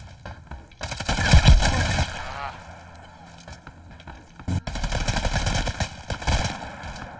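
Gunfire in the shooter game Hired Ops, with loud bursts of rapid automatic shots in two stretches separated by a quieter gap, heard close and under a voice talking.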